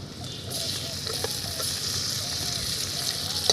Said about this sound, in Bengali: এখন এর মধ্যে অ্যাড করে দিচ্ছি টমেটো কুচি